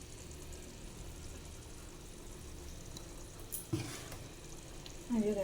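Fish frying in oil with a steady, close sizzle throughout, a brief clatter near the middle and a short burst of stirring or scraping near the end.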